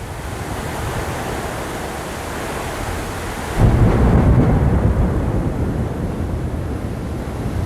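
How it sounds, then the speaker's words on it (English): Heavy thunder rumbles outside during a serious storm, a deep roll swelling midway over steady rain-like hiss, loud and continuous with no voices. "Got a serious storm out here"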